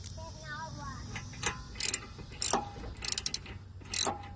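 Brake caliper bolt being screwed back in by hand on a 2018 Nissan Pathfinder SV during a rear brake pad change, with short ratcheting clicks and metallic taps in uneven bursts, close up.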